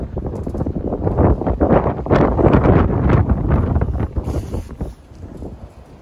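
A 4–5 m/s northwest wind buffets the microphone outdoors beside a bass boat at a lakeside, a loud continuous roar with gusting rumble that eases toward the end.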